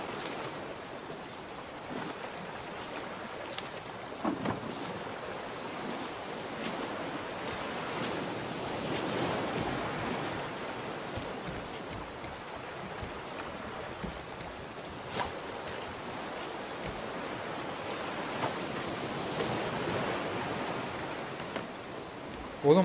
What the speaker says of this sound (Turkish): rahatlattı beni şu okyanus sesi.